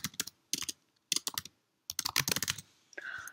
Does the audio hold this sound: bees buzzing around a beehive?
no